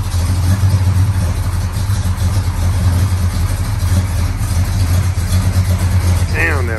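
The engine of a 1973 Pontiac Formula with a four-speed idles with a loud, steady low rumble throughout, while people talk nearby over it.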